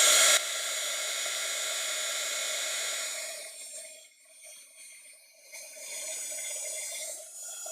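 A heat tool blowing hot air onto craft materials, a steady close whine-and-whoosh that dips and wavers as the nozzle moves.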